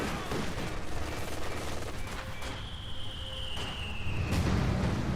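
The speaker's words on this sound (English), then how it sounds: "And that mortar almost destroyed that structure" Mortar blasts and gunfire rattle through a Company of Heroes 2 battle, dense overlapping shots and booming impacts filling the clip continuously, with a whistling shell streak passing mid-way.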